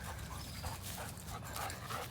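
Dogs at play pant quickly and rhythmically up close, with light scuffling and a faint whimper mixed into a soft, busy background.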